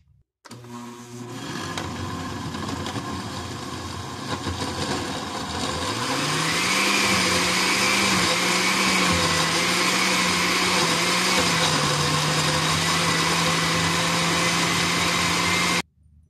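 A blender grinds tilapia aguachile ingredients, starting with a lower whir, then ramping up to a steady, loud, high-pitched motor roar that holds for about ten seconds before cutting off abruptly.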